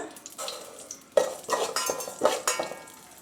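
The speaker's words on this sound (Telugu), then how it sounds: "షాహీ జీరా, జీలకర్ర షాహీ జీరా బాగా వేగినాక" Shahi jeera cumin seeds crackle and sizzle in hot melted ghee in a pan, with a utensil stirring and scraping against the metal in uneven bursts, close by.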